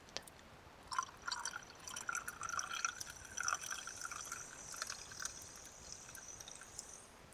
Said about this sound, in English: I need to mix up some more saline.